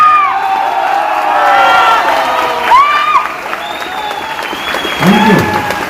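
A live crowd at a celebration show in Sasaram, Bihar applauds loudly and continuously, with cheers and whistled whoops rising above the clapping near the end.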